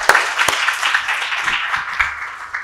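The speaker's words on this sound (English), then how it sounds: "join me in extending a round of applause to our speakers" A conference audience at a food systems governance event applauds the speakers, giving a short burst of clapping with a few sharp, close hand claps standing out over the general patter.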